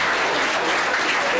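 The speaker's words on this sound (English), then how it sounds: "Let's give a big round of applause." Loud, dense applause from an audience at a ceremony honouring youth baseball teams, a brief unbroken burst of many hands clapping close by.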